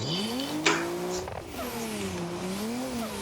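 Car engine in a racing video game, drifting through a corner on the 2024 Drift Masters Spain layout after a handbrake pull: a steady, wavering engine drone with a brief sharp tire squeal near the start, close and continuous.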